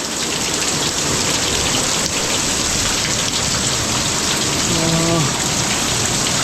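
Heavy rain falls hard and constantly in a loud, close hiss of drops on surfaces, with a brief faint tone near the end.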